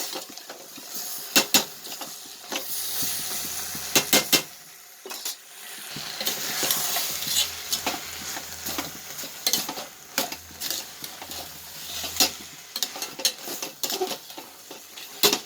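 Shallots, tomatoes and drumstick pieces sauté with fenugreek, mustard seeds and curry leaves for a kuzhambu, giving a steady sizzle broken by repeated sharp scrapes and clinks of a spoon stirring the pan close by.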